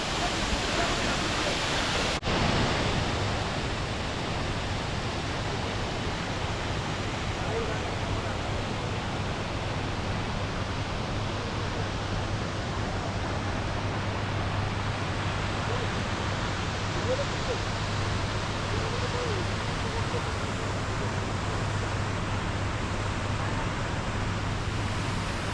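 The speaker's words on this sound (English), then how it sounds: "let's enjoy the waterfall in Jung." Jang (Nuranang) Falls in Arunachal Pradesh, near Tawang, pours in a constant broadband roar that fills the whole stretch evenly, steady and enveloping with no breaks.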